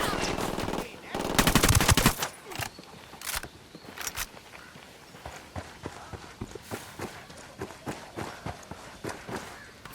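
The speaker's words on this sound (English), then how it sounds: "Opening fire on these fuckers." Automatic gunfire crackles in the video game Ghost Recon Wildlands, with a dense loud burst in the first two seconds followed by scattered sharp shots and bursts over a busy game soundscape.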